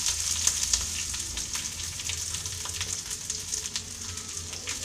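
Onion, curry leaves and green chilli sautéing in a pan make a continuous, close crackling sizzle with a busy spattering texture, steady throughout with no talk.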